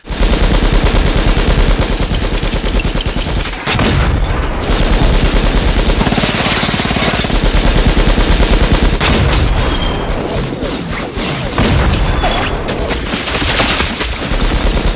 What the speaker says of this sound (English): the scene where they come and free Morpheus and it's like the slow mo with the big machine gun